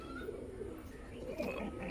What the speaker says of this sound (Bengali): তো দেখায় আপনাদেরকে মাদা পায়রাটা।